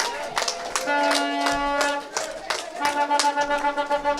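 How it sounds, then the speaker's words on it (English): An outdoor public meeting audience in Victoria, St. Mark, Grenada, claps after a speech, with scattered hand claps mixed with a held tone and some voices. "Give him some more claps, man."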